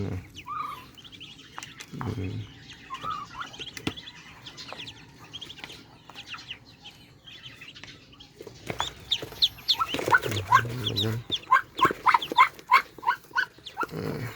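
High, thin peeping from newly hatched ducklings, growing busier and more rhythmic toward the end, with faint rustling and low background noise.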